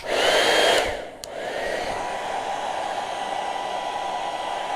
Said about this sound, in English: I'm going to blow dry it a minute because I'm putting the white over it and I don't want it to lift.